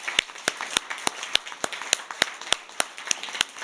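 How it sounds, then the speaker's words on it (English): Scattered applause for a sponsor at a conference general meeting: individual sharp claps in a loose, roughly even rhythm, a few people near the microphone, thin rather than a full crowd. "they really deserve a big round of applause for that level of support"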